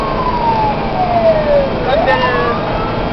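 A fire truck siren from the Futrono fire brigade in Chile wails in a sweeping, rising and falling tone, loud and close over the rumble of the vehicle and street noise.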